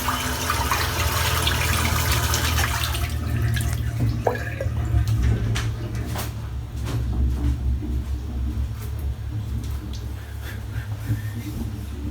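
A tap runs steadily into a sink to rinse shaving soap from a brush, giving a continuous close splashing rush with light drips. A few clinks are heard, and there is no talking.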